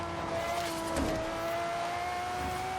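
A twin turbo Lamborghini Reventón engine in Forza Horizon 3 drones steadily with a rising whine, a sharp squeal of tires cutting in briefly near the start.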